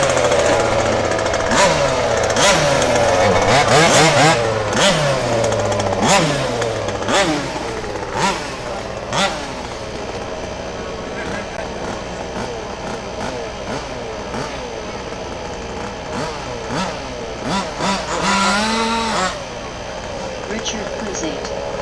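Race car engines rev repeatedly during warm-up at Warm Springs, loud rising and falling blips close by and in the distance, with a steady idle underneath and a public-address voice talking over parts of it.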